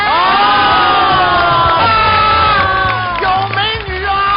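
An audience cheers and shouts to welcome performers from a Shanghai opera troupe, a loud, continuous wash of overlapping voices with whoops rising and falling; no distinct clapping stands out.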